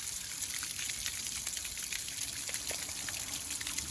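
Water runs and splashes steadily while a 1976 Starcraft boat's 2.5L Mercruiser I/O motor is winterized, a faint constant hissing trickle with no talking.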